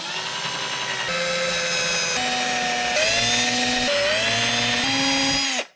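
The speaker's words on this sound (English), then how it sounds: "put it on your drill bit so you don't go through the headstock" A power drill whines steadily for several seconds boring into the headstock of a 1967 Teisco Audition Zenon guitar, its pitch stepping up and down in short bursts before cutting off abruptly at the end.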